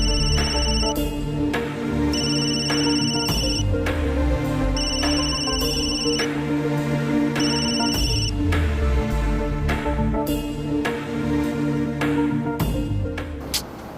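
A mobile phone rings on and on, unanswered, playing a melodic ringtone in repeating phrases. It is loud and continuous for the whole stretch, with no one speaking.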